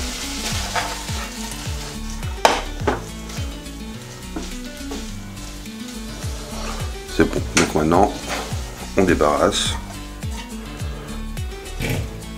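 Rice cooking in a pan for a homemade shrimp rice salad, with steady sizzling and occasional stirring and utensil clinks against the pan, sounding close and continuous.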